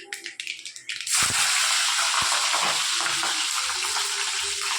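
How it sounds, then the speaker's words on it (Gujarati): Green chillies dropped into hot oil for sev khamani, bursting into a loud sudden hiss after a second of quieter stirring, then a sustained close sizzle with occasional pops. "લીલા મરચાં મોરા છે પહેલાં નાખી દઈએ, એને પહેલાં તળી લઈએ"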